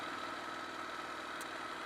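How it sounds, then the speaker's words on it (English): A Ducati Scrambler 1100 motorcycle engine runs steadily at idle, a continuous, even, fairly close drone with no talking. "So this is Ducati Scrambler 1100. This is the big boy bike."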